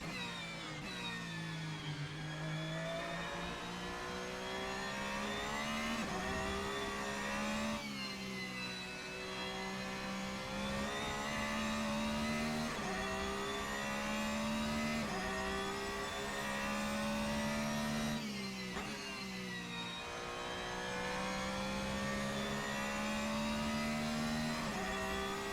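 A race car engine in the Assetto Corsa video game, a continuous loud whine that rises through the revs, drops at each gear change and builds again over a long stretch.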